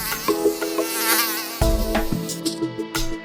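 A mosquito's thin, wavering buzz drones close by, its pitch bending up and down, with a few sharper tones and knocks breaking in partway through.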